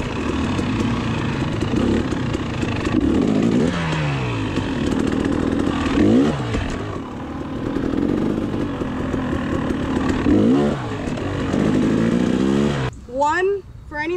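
An enduro motorcycle revs in repeated rising bursts during a controlled wheelie drill at a beginner hard enduro riding clinic, moderately close with surges and dips throughout.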